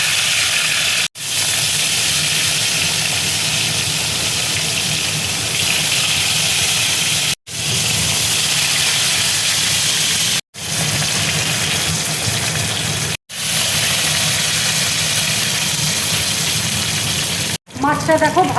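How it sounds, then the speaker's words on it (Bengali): Fish fries in hot mustard oil in a wok, a loud, steady sizzling hiss that runs throughout and is broken by several abrupt cuts into brief silence. "এবার দেখো মাছটা তেলের মধ্যে দিয়ে দিচ্ছি"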